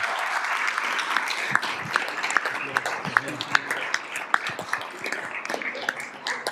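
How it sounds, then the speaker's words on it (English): Audience applause at a school district governing board meeting honoring a top Arizona middle school, a steady wash of many hands with sharper individual claps and cheers scattered through it. "So give it a round of applause"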